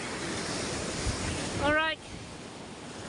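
Sea waves wash steadily onto the shore of a seaside village beach at Barangay Bukana, a continuous broad surf roar with some wind, while a voice briefly speaks partway through.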